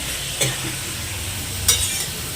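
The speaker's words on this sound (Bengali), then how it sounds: "এদিকে হচ্ছে মা রান্না করছে" Food sizzles and fries in a pan on a home stove as a mother cooks, with a steady hiss broken by two sharp scrapes of stirring.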